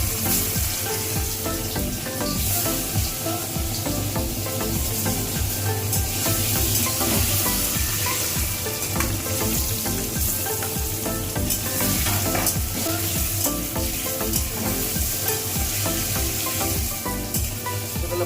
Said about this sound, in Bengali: পনিরগুলো সব যাচ্ছে ভাজছে।